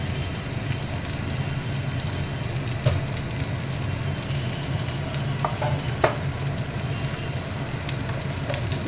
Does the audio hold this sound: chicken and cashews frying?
yes